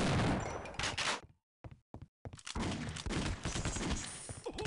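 Heavy gunfire in the game Half-Life: Opposing Force, loud dense volleys up close, broken by a short gap of scattered shots before the barrage resumes.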